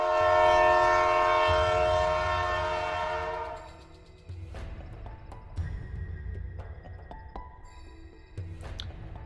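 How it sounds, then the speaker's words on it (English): A loud train whistle blares and then fades as the train approaches and passes, showing the Doppler effect, followed by rumbling wheels and rhythmic clatter on the rails. "imagine a train approaching you, blowing its whistle"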